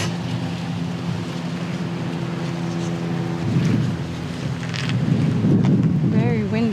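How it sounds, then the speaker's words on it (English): Strong wind buffets outdoors at the old coastal military site of Fort MacArthur, a constant rumbling gust noise that swells louder in the second half, with a brief voice near the end. "Very windy out here."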